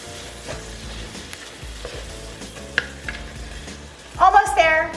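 A pot of black-eyed peas and collards in water is stirred with a spoon, giving soft scraping and swishing close by, then a louder burst of sizzling and bubbling near the end.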